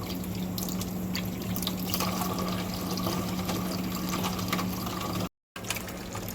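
Water runs steadily from a tap or hose while filling an ice bath outdoors during a rooster harvest, a continuous close splashing rush with a brief cut near the end.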